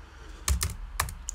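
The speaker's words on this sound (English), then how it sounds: "You can rename those macros by clicking on it and typing in" A few quick keystrokes on a computer keyboard, typing a short name into a music software macro field: two clustered clicks, a pause, then two more, close and fairly quiet.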